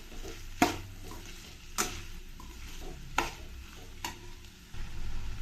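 Onions frying in a pan under a constant low sizzle, with four evenly spaced scraping stirs and a louder rush of frying at the end; no one speaks.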